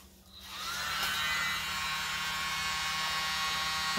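A small electric blower starts up and runs with a steady, close whirring hum over resin paint, holding a constant high-pitched drone after a quick spin-up.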